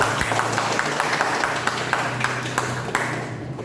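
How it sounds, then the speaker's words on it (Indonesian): A class of pupils claps in unison during a lesson, a dense run of rapid hand claps at an even pace that tails off softly near the end, close and continuous. "Tepuk tangan dulu."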